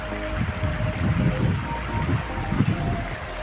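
Water flows down a rocky valley toward Lohani cave in Mandu, where it becomes a waterfall, a steady rushing murmur mixed with gusty wind buffeting the microphone.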